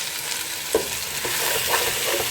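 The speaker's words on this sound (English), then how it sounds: "we're going to saute them together for literally a minute" Sausages sautéing in oil in a pan for a Greek sausage casserole, with stirring clatter and a soft steady sizzle, close and moderately loud, a few sharper utensil scrapes standing out.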